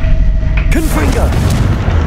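A Confringo blasting spell explodes in the video game Hogwarts Legacy: a sudden loud boom bursts in partway through, followed by crackling, sweeping effects over a steady game soundscape.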